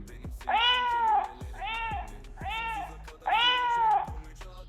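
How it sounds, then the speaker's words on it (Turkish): Four electronic-sounding cat meows in a row from a pet robot's speaker, evenly spaced and fairly loud, each a rising-then-falling mew with faint clicks between them. "Burada bir miyavlama sesi."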